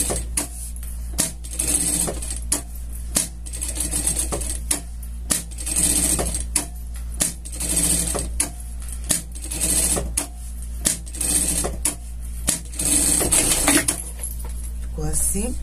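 A sewing machine runs in rapid bursts, separated by short pauses, as it stitches a safety seam along the base of a circular top piece for a scout costume; the whirring is close and loud.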